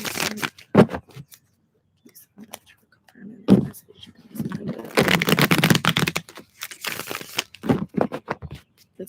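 Cards shuffled for a reading, soft riffling bursts in several short runs, close by, with a woman's speech in between and over part of the shuffling.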